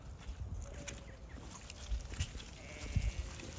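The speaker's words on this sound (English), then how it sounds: "we have got the ewes in" Ewes in a farm pen holding twins and triplets give a few scattered bleats against a busy low rumble of shuffling livestock, the calls moderately close but not loud.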